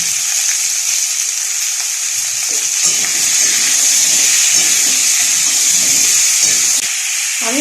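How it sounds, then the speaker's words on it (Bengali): Vegetables, potatoes with a little turmeric and salt, fry in leftover fish oil with a steady, loud hiss and sizzle that runs unbroken throughout, with a few faint stirring scrapes underneath. "মাছের তেলটার মধ্যে কোনো রকম আর তেল দিইনি ওই তেলে দিয়ে আমি সবজিগুলো ভেজে নিচ্ছি"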